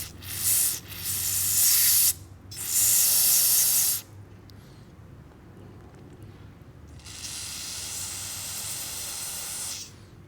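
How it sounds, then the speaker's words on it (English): Three bursts of loud, hissing aerosol cleaner sprayed through a dirt bike carburetor jet, the first two short and close together, the last one longer, separated by quiet pauses. "I'm going to insert the spray hose into the opening of the jet, and we're going to try and spray it."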